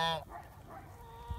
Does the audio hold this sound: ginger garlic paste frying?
no